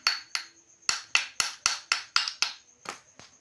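A bearing cup is tapped out of a universal joint coupler with about a dozen sharp, close metallic hammer strikes at a fairly regular pace, each ringing briefly before the next, with no talking.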